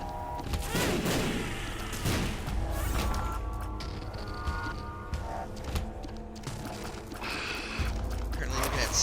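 Game sounds from The Binding of Isaac: Afterbirth with a burst of explosive blasts and crashes, mechanical clatter and scattered bangs, loud and dense over a few seconds.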